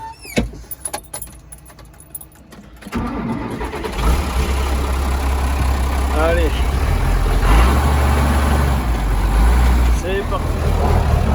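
An old tractor, a model 36, is started up and settles into a loud, deep, steady diesel run after a few seconds of cranking and clatter; someone speaks briefly at the start.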